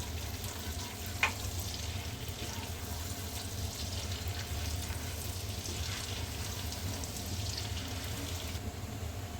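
Chopped garlic sizzles and fries steadily in melted butter in a pan as the base for a white sauce, a continuous crackling hiss with one brief clink near the start.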